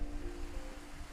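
Steady broadband rush of flowing river water near a village site for a dam, a constant close roar with a faint low hum running underneath.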